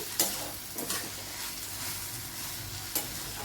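Beetroot halwa with dry fruits, cardamom powder and grated fresh coconut is stirred in a pan, a few scraping strokes over a faint continuous sizzle, close and quiet with no speech.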